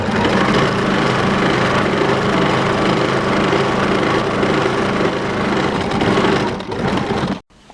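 A sewing machine runs continuously in a steady whirring buzz while stitching a double seam on cloth, close and loud, then stops abruptly near the end.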